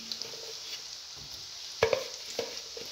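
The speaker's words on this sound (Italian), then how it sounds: "È normale che schiumano, stanno friggendo." Oil sizzles and hisses steadily as struffoli dough balls fry and foam, with a few sharper pops and light clatter partway through; no one speaks.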